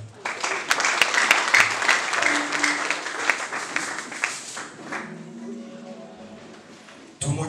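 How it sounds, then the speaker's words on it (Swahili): A church congregation claps and applauds for Jesus during a service, a dense burst of hand claps with crowd noise that thins out over the final seconds before a brief renewed swell. "Tunasema patia Yesu makofi."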